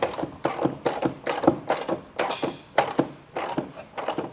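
A hand ratchet tightens bolts up under a tractor, clicking in quick, even bursts of strokes, about ten close and loud pulls in a row with no talking.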